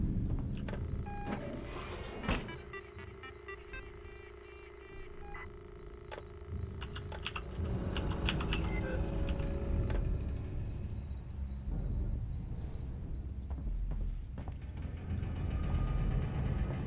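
In-game panel rewiring in Alien Isolation: a run of mechanical clicks, ratcheting and gear-like clatter, with sharp metallic snaps scattered over a low rumbling background and no speech.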